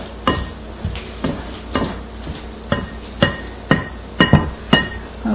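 Cranberry walnut bread dough being mixed by hand in a bowl, with a series of about ten uneven, close knocking and scraping strokes in an irregular rhythm and no talking.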